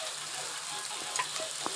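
Fenugreek and potato sabji sizzles steadily in a pan while a spoon stirs it, adding faint clicks and scrapes over the frying hiss.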